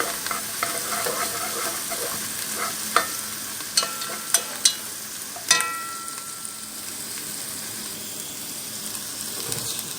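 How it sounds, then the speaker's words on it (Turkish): Tomato paste sizzling and frying in a pan while being stirred, with steady frying crackle and a few sharp scraping clinks of the utensil against the pan. "Ve salçasını biraz kavurduktan sonra"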